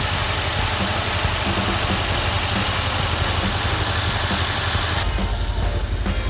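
A 2016 Mercedes-AMG C63 S coupe Edition 1 idles with its bonnet open, a loud, steady engine rumble with a faint repeating tick, its tone shifting slightly near the end.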